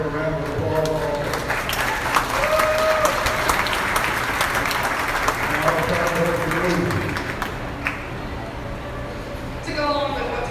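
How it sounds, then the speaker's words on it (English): Audience applause at a 2025 goat show's grand drive, loud steady clapping across the span with voices and some animal or crowd sounds mixed in, easing off briefly near the end. "I like they deserve a round of applause also."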